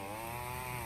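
A chainsaw drones steadily and fairly faintly through a brief moment, with a buzzing, rasping motor tone and no voices.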